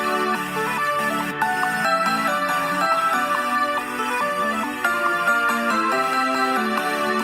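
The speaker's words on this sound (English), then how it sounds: "I emphasised some notes with the glockenspiel and the piano." A GarageBand remake of the Sonic Mania intro theme, with glockenspiel and piano accenting notes over a steady, full arrangement of bright melodic lines and chords, playing continuously without any voices.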